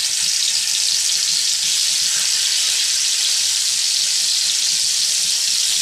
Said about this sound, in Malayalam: ഞാൻ വെളിച്ചെണ്ണ ഒഴിച്ച് കൊടുത്ത് ഇനി നമുക്ക് വറക്കാൻ ഓരോ മീൻ പെറുക്കി വെക്കാം